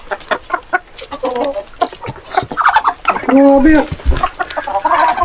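Heritage chickens on a small farm cluck and squawk close by in busy, overlapping bursts, with one longer drawn-out call in the middle, while a person talks over them.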